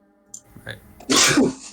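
A person sneezes loudly and sharply at close range, just after a few quiet spoken words at a tabletop gaming session.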